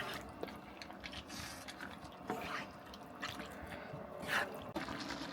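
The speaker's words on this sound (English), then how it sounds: "Giving it a quick stir." Bolognese sauce is stirred in a multi cooker, faint wet sloshing and small splashy drips with occasional soft clicks of the spoon, quiet and close.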